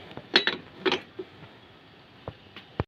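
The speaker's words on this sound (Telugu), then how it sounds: "మూత పెడదాం." A lid set down on a cooking pot in a home kitchen: two or three sharp metallic clinks close together, followed by a few lighter, scattered taps and clicks, with no talk.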